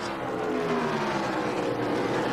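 A NASCAR race car at full throttle during the 2001 Cracker Barrel Old Country Store 500 at Atlanta, its engine holding a loud, steady roar with no break.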